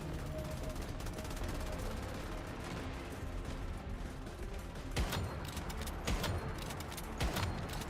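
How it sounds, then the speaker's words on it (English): Rapid gunfire from the survival shooter Once Human on a hard server, a dense run of shots and sharp bursts under continuous game noise, with louder cracks clustering near the end. "I'm shooting him in the face"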